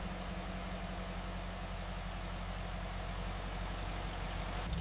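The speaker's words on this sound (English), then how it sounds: "Idle stabilizes. Engine note healthy and strong, hands blip the throttle, engine responds revving before settling back." A restored 1944 Willys MB Jeep's four-cylinder engine runs at a steady idle in a workshop, a continuous low, even mechanical drone with no clear rev swell.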